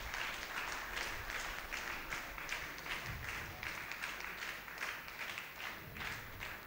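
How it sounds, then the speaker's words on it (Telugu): Sustained applause from a church congregation at a Sunday Catholic holy mass in Kankipadu parish, a steady dense clapping texture, moderately distant and continuous with no talk over it. "గట్టిగా చప్పట్లు కొట్టండి మరొకసారి."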